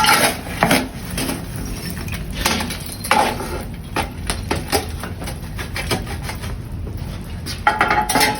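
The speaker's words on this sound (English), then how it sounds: "We're gonna take a scoop of coals from the corner and put it under the trivet" A scoop of hot coals is gathered from the corner of an open hearth and tipped under an iron trivet in a historic fort kitchen, giving repeated scraping, rattling metal and clinking sounds close by, alone without talk.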